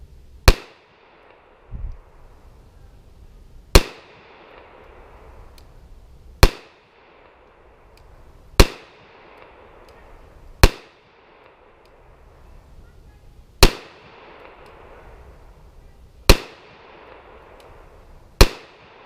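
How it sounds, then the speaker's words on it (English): HK45 Compact .45 ACP pistol firing Freedom Munitions Pro Match 230-grain jacketed hollow points at 10 yards: eight sharp, loud shots spaced roughly two to three seconds apart, each ending in a brief outdoor echo. "Shooting 10 yards using Freedom Munitions Pro Match, and that's their 230 grain jacketed hollow points"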